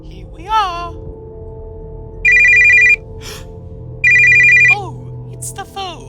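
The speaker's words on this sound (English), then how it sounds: "Oh, it's the phone." A telephone rings in an animatronic horror video game starring Mario, two loud electronic bursts of ringing spaced apart, mixed with game sound effects and brief voice sounds.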